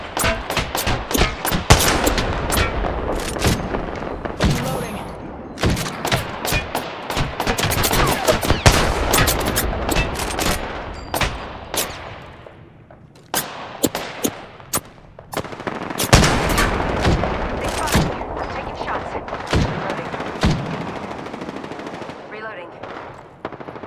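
Rapid automatic weapon fire in Apex Legends, loud dense bursts of sharp cracks with brief pauses between volleys, close and continuous for most of the stretch, with faint voice lines underneath.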